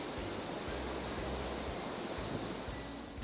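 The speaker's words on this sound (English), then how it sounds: "you can hear the sound of the waves crashing on the rocks" Ocean waves breaking against rocks beside a seaside spa at the Breakers in Palm Beach, heard as a dense, continuous roaring wash with low rumbling swells beneath, steady and enveloping with no voices.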